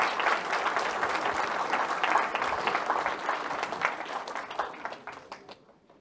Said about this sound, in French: tu peux applaudir